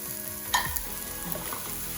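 Strips of steak hit a hot pan with ginger and garlic, raising a loud, even sizzle with a short sharp clatter from stirring, close by and with no talk.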